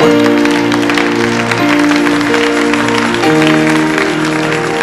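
Sustained applause fills a church service, dense and steady throughout, with a held organ or keyboard chord sounding underneath and shifting pitch a few times.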